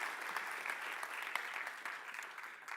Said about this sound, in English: Would you please give our villain a nice big round of applause?